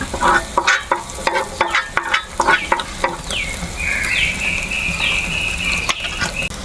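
Chili powder being stirred into clam curry masala as it fries in coconut oil in a pan, a steady close sizzle broken by repeated scraping stirs, with a high whistling tone drifting through the latter half.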